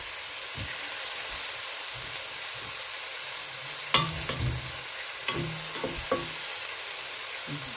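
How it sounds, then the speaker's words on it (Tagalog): Mushrooms fry in a pan with a steady, close sizzle and hiss, while a utensil stirs and scrapes them in several clattering strokes, the busiest stretch falling in the second half, with no talking. "the 3 stages how to cook a mushroom"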